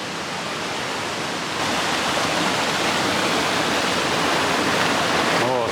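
A waterfall in Oirase Gorge, Japan, rushes in a steady, loud roar of white water that fills the whole scene without a break.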